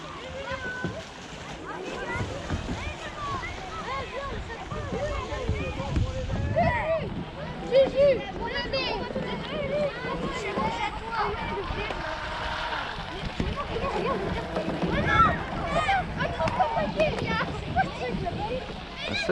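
An RC offshore boat running on a limited 6S setup with weight placed well forward whines over the water amid splashes and wind buffeting, its motor rising and falling throughout while someone talks nearby.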